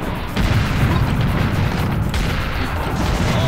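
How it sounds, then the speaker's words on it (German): Cannon fire from the Serious Sam HD video game: a deep boom hits early, followed by a sustained loud rumble of explosive game noise with no talking over it. "Den hab ich doch gerade so eine Kanonenkugel verpasst."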